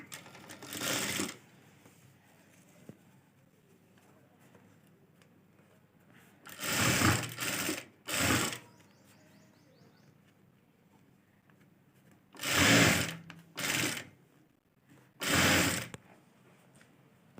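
A sewing machine stitching the neck of a kurti runs in short bursts, four or five separate runs of rapid stitching with quiet pauses between them, fairly close and alone.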